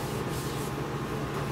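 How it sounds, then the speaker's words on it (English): A hand rubs finish onto a turned wooden piece with bark, steady close friction hiss without pauses. "But I can do a hand rub."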